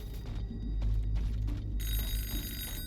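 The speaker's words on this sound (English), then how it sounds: "of course there had to be a telephone ringing somewhere" Telephone ringing in the S.T.A.L.K.E.R. 2 game world, a bright electronic trill with repeated bursts over low rumbling ambience, growing louder and more sustained toward the end, no talk.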